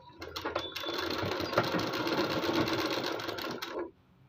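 A sewing machine stitches suit lining in a steady, close, rapid whir, starting with a few short bursts and then running continuously for about three seconds before cutting off sharply.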